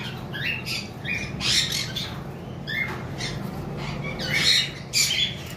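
A pair of creamino Fischer's red-eye lovebirds gives sharp, close squawks in short bursts over a steady background hum, with no talk.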